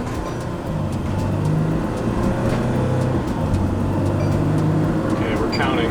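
A Revel 4X4 camper van accelerates hard on a residential street during a 0 to 60 run, its engine a steady loud drone from inside the cabin as the pitch climbs through gear changes.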